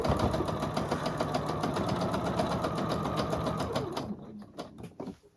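A sewing machine stitches a quilted poinsettia table runner in a fast, steady close-up whir, then slows and stops near the end with a few clicks.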